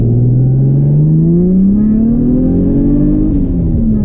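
Turbocharged 1JZ-swapped Nissan 240SX accelerating hard toward redline, its engine note rising steadily in pitch over about four seconds, loud and close, with a slight dip near the end.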